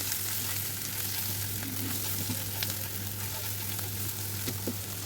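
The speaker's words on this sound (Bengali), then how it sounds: "ভালো করে একটু মশলা মাছের সাথে মিশিয়ে ভাজি করে নিলাম" Fish pieces coated with coriander, cumin and salt frying in a pan, a steady dense sizzle over a low hum with occasional light stirring taps, close and even, no speech.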